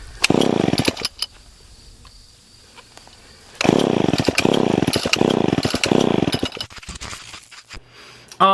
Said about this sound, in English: Piece of shit chainsaw.